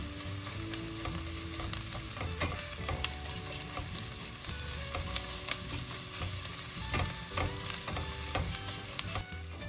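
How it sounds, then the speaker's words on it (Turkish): Garlic and a spoonful of pepper paste sautéing in a pan, a steady close sizzle broken by frequent clicks and scrapes of stirring, with no talk. "Ardından bir yemek kaşığı biber salçası ekleyip salçanın kokusu çıkana kadar kavurmaya devam edelim."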